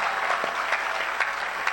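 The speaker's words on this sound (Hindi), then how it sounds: "जोरदार तालियों से स्वागत करें" An audience at a Hindi poetry recital breaks into steady, dense applause, many hands clapping together at moderate loudness for the whole stretch.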